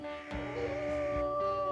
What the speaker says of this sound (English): I should be able to howl and see where the packs are.